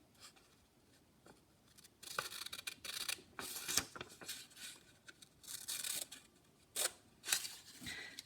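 Scissors cutting a paper craft piece for a holiday house, a series of crisp snips and rustles in separate bursts, close and fairly quiet with no talking.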